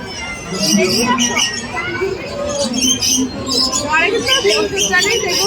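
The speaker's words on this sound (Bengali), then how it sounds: "লক্কা পায়রা এই পায়রা ওই পায়রা সেই পায়রা হ্যাঁ এইখান থেকে পায়রা শুরু" Fancy pigeons at an outdoor bird and flower fair, soft cooing and squawking mixed into a dense crowd din, with people talking continuously close by.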